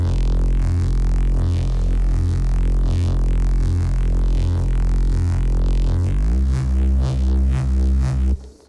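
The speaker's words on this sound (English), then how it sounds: "Then I added a reverb." A distorted Reese bass with reverb holds a thick, buzzing low drone with airy distortion on top, shifting pitch lower near the end before cutting off abruptly; loud and continuous, no voices.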